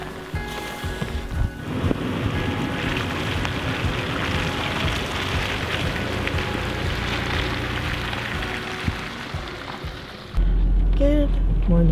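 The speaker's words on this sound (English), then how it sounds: "Here comes some more rain." Steady rain pours down outdoors on a remote road, a dense continuous patter that fills the whole stretch, with a heavier low rumble joining near the end.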